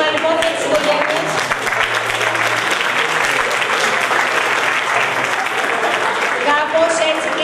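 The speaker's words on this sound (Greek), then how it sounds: "Ένα μεγάλο χειροκρότημα λοιπόν για τις οικογένειες." A crowd at a school exchange closing ceremony gives host families loud, sustained applause, a thick wall of clapping with a few voices calling out over it.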